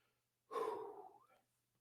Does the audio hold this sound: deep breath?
yes